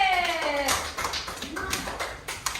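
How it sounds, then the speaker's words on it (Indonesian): Students in an elementary school classroom clapping for a classmate, a brief scattered patter of hands over about two and a half seconds, with a faint voice near the start. "tepuk tangan untuk Ate"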